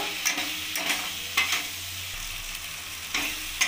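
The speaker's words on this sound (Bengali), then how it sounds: "এবার ভালোভাবে মশলাটা কষিয়ে নেব।" Spice masala with coriander powder, garam masala and ginger being fried in oil for a vegetarian biryani: a close, steady sizzle with rhythmic scraping stirs in the pan, heard alone without any voices.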